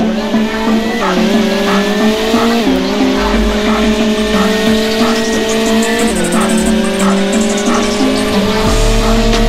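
Two McLaren Senna race cars, an LM and a GTR, drag race on a beach in the Roblox game Vehicle Legends, with loud, continuous engine roar and rising revs repeatedly shifting through gears.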